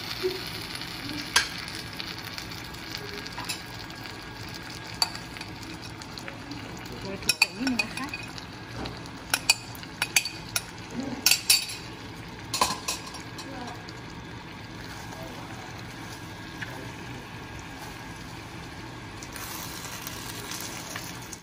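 Pad thai with fresh shrimp is stir-fried in a large wok: a quiet steady sizzle runs throughout, broken by scattered scraping and clanking of the spatula against the pan.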